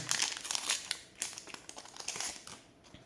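Someone rips open the plastic wrapper of a Euro 2024 Mega Starter Pack card pack: close, sharp crinkling and tearing bursts in irregular spurts, with no talking.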